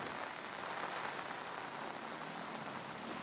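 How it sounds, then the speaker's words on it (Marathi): Heavy monsoon rain pouring down in Mumbai, a steady dense hiss of rainfall on surfaces with no letup, loud and continuous throughout with no voices. "आज सकाळपासून मुसळधार पावसाला सुरुवात झालेली आहे आणि या पावसाने अक्षरशः मुंबईला झोडपून काढलेलं"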